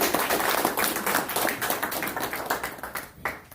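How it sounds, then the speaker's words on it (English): Steady applause from a town council meeting room, dense overlapping claps that gradually thin toward the end. "if we could give Richard an applause"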